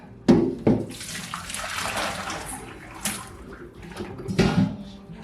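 Water runs into a sink while wool yarn is being acid-dyed, a steady rushing pour with a few sharp clunks and splashes near the start and end, close by.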